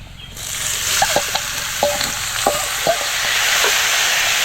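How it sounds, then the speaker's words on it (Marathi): Potato slices fry in hot oil in a wok with a strong, continuous sizzle. A few sharp utensil taps and scrapes punctuate it at irregular intervals. "आता आपल्याला ह्याच्यात हे बटाट्याच्या काचऱ्या टाकायच्या"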